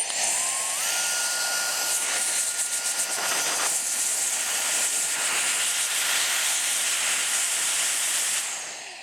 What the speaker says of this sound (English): We now want to blow that off with compressed air.